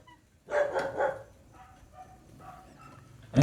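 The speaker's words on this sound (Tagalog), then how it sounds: "Sabi ko sa'yo, may aso eh." A dog barks in a quick burst of several close, loud yaps near the start, then quieter yips trail off over low background noise before a sharp loud sound at the end.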